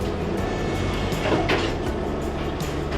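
Steady rumble and rattle inside a long train carriage with a car loaded aboard, a continuous close, loud rolling noise with faint clacks.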